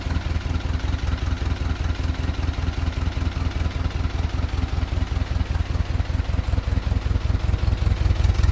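Freshly assembled GAZ-MM truck engine running at around idle, a rapid, even chugging with a clattering valve tick that grows slightly louder toward the end, close and alone.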